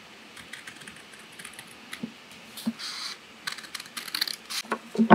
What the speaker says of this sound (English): I'm just going to cut these out.